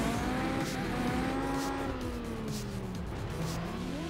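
A car drifts and boosts in the racing video game Juiced 2, its engine holding a steady sustained whine that sweeps and shifts pitch throughout, with a hint of tyre squeal under the loud continuous drone.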